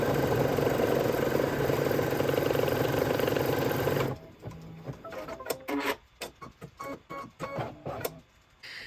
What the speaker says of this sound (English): But next we're going to stitch the letter.